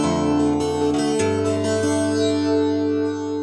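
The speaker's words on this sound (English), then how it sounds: "Moving on from there, we go to the flanger." Acoustic guitar through a Trace Acoustic TA200 amp with its flanger effect engaged, with ringing chords and a changing bass note sustaining loudly and evenly for a few seconds with no voice.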